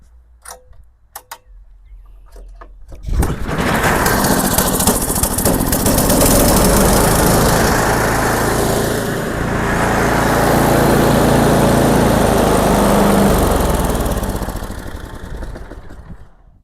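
A snow blower engine starts after a few clicks and settles into a loud, steady running roar close by, idling to warm the oil in a well-ventilated spot.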